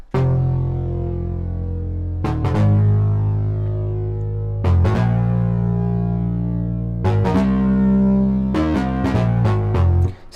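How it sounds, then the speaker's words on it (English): Synth bass with a static chorus effect turned on, a thick sustained tone that changes pitch every couple of seconds with sharp re-attacks, loud and continuous with no talk. "it sounds like this with the chorus turned on."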